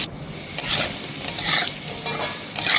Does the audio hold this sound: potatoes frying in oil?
yes